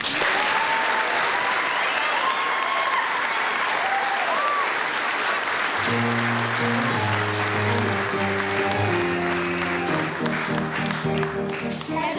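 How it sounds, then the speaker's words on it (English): Sustained audience applause for the student performers at a Corpus Christi production of The Pirates of Penzance in 2003, loud and dense throughout, with music entering under the clapping partway through. "Let's give these wonderful boys and girls one last clap."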